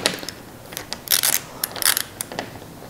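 A ratchet tightens a clamp bolt on the tube frame of an outdoor Christmas light arch, giving a close, crisp series of irregular clicking strokes.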